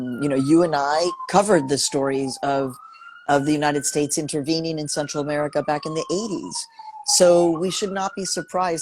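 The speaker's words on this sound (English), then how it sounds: "Sorry about the siren, but we're in Harlem." An emergency vehicle siren wails on a Harlem street, a thin continuous tone rising and falling faintly beneath a person talking steadily throughout.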